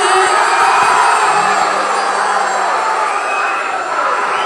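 A college audience at a special debate event at an engineering college cheers and whoops loudly, a dense roar of crowd noise that swells briefly and then tapers slightly.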